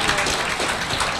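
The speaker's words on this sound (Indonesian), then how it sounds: "Mari kita beri tepuk tangan untuk Diamond Director kita," An audience applauds a speaker at a marketing training event, a short burst of dense, steady clapping.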